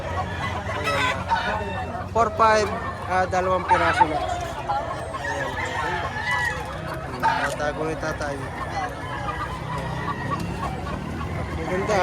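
Chickens clucking and roosters crowing amid a busy crowd at a poultry auction market in Padre Garcia, with someone talking loudly over the poultry noise.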